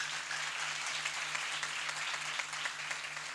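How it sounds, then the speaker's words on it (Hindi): A church congregation claps for Pastor Rashid Younus, a steady, even wash of applause held at moderate distance for the full few seconds without a break. "जोरदार तालियां बजाएं उनके लिए"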